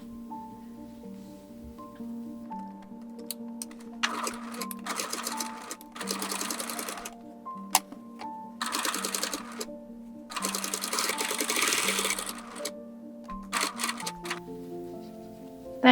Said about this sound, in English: sew from the hem of one leg all the way around to the other side